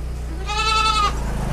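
An Etawa goat at a livestock seller's farm lets out a single loud, wavering bleat lasting about half a second, close by over a low steady background hum.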